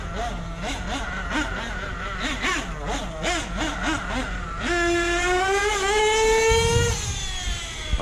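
A Losi 8T RC truck finishing its engine break-in, its small nitro motor buzzing and revving in rising and falling pitch sweeps as it drives, then holding a steady high whine.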